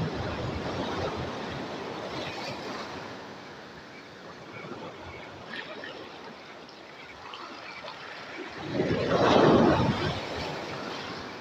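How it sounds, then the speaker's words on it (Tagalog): Big ocean waves wash and churn steadily along a shore where someone is casting a fishing line, with a heavier surge crashing loudly near the end. "Medyo may kalakihan yung alon mga boss oh"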